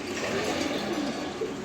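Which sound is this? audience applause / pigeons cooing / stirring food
pigeons cooing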